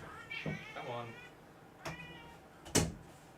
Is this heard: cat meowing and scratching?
yes